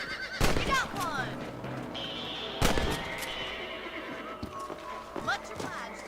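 Horses in the Western video game Red Dead Redemption whinny loudly and clop along with hooves, with sharp bursts and a voice speaking in between.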